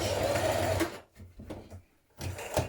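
A sewing machine stitches the lower edge of a shirt band, a close, fast mechanical whirring run that stops abruptly, then several short stop-start bursts of stitching and a final brief run.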